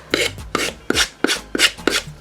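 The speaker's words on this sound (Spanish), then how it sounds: "Con una lima de uñas o una lija de grano suave lo pasamos así en ángulo" A nail file or fine-grit sandpaper rasps at an angle along the edge of a decoupaged wooden puzzle, six evenly spaced close scraping strokes with no talk.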